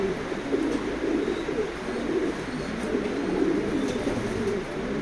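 Racing pigeons coo close by in a loft in repeated soft, low throaty bursts, a steady murmur of several birds with faint background noise and no talking.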